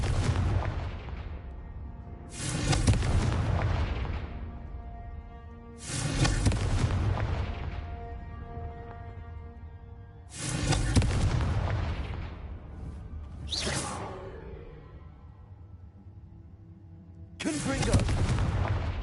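Blasting-curse explosions, five heavy booms spaced a few seconds apart, each a sharp loud burst trailing off into a long rumbling decay.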